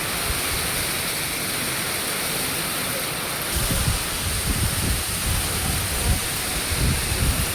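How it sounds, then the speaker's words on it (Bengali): Heavy rain pours steadily at a train station, a dense loud roar throughout, with a deeper rumbling layer joining partway through. "তো চলো, দেখো বৃষ্টি হতে শুরু করে দিয়েছে ভালো রকম।"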